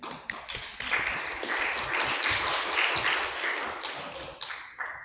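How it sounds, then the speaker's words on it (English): Debate audience breaks into steady applause, many hands clapping together for several seconds with a few louder individual claps near the end. "Please give applause."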